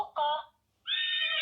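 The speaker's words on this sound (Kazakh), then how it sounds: "Жылқы." A children's sound book plays a brief electronic horse neigh in two shrill, tonal bursts separated by a short gap, loud and close.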